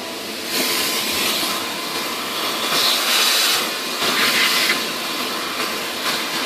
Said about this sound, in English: So I'm going to get the vacuum and clean that crap up.